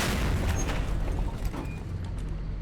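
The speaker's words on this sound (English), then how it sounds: "there's an explosion nearby" A nearby explosion in a video game roleplay courtroom scene, heard as a continuous heavy low rumble with scattered cracks, loud and dense at first and easing slightly toward the end.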